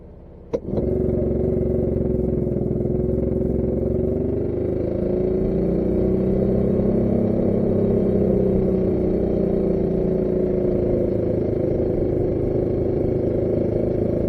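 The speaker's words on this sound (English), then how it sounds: "Now on the way I did stop at the drag race portion of the Hillbilly Proving Grounds, and I did a quick 0 to 30 run." A Honda Insight fitted with a tuned EFI 420 cc engine makes a 0 to 30 run at a drag strip, a steady droning engine note holding loud and continuous after a brief click at the start, with no talk.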